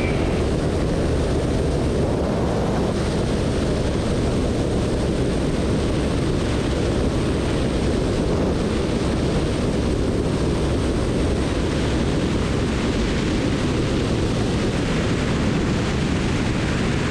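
Seaplane engine during a water landing into a headwind with power pulled back, a loud, constant roaring rumble mixed with rushing wind and water noise throughout.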